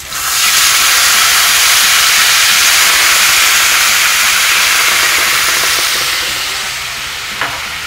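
White wine hits a hot pan of chicken with thyme, bursting into a loud, steady hiss and sizzle that holds for several seconds before easing slightly, with a brief clink near the end.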